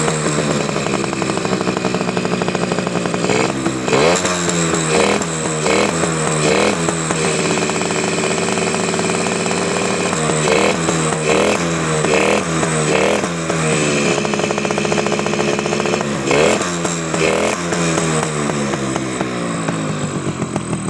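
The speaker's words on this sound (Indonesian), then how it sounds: "Ini kita gaskan ya, kita gaskan sekali lagi biar tambah mantep." A blue 1997 Suzuki RC 100 motorcycle engine revs loud and close, with repeated throttle blips rising and falling over a steady buzzing idle. No voices are heard.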